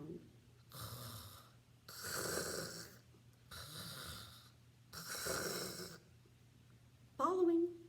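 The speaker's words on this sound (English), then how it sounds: "Following the sound of snoring upstairs" Snoring from someone asleep upstairs in a storybook bears' house, four long rasping breaths in a slow steady rhythm, moderately close, ending with a short squeaky sound.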